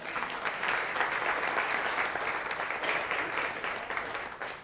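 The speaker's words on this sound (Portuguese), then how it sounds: "Uma salva de palmas." Clapping sweeps through the audience at a public hearing. The steady, even applause holds unbroken from start to finish.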